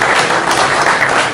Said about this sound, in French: je demande beaucoup d'applaudissements avant qu'elle prenne la parole